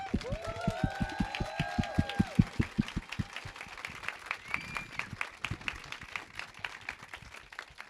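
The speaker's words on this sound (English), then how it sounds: "let's give her a round of applause" Audience at a SeriesFest pitch event applauding a guest as she stands, a fairly faint run of steady, evenly spaced claps with some tonal sounds near the start, gradually thinning out.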